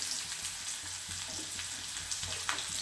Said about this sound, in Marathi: सर्वात आधी आपल्याला कांदा परतून घ्यायचा